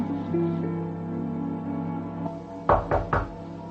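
Knocking on a door indoors, three or four firm raps close together near the end, following a quiet stretch of low steady background sound.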